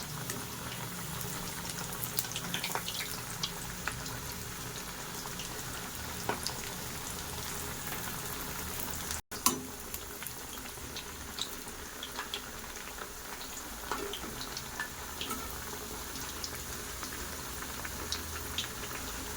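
Rice flour snacks frying in oil in a pan, a steady continuous sizzle with small crackles, close and moderately loud, briefly cut off about midway before resuming.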